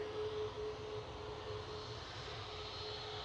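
A Ryanair Boeing 737 MAX 8-200 climbs away after takeoff from Manchester Airport and banks into cloud, its jet engines a faint, steady distant rumble with a thin sustained whine, fading slightly, no voices.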